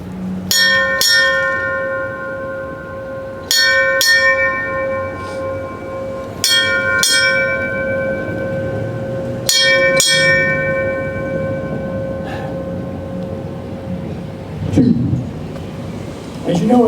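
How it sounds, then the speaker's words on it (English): Eight bells rung at a military memorial ceremony for a veteran, marking the Navy end of the watch: four evenly spaced pairs of clear, ringing strikes with long resonant tails, loud and close, over a quiet outdoor background. "8 bells is the Navy term for end of the watch"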